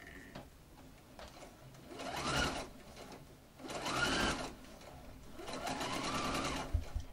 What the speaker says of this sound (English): then we're ready to start sewing